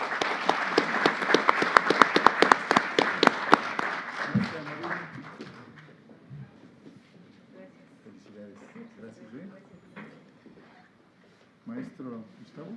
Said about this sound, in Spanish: pido un aplauso para todos ellos,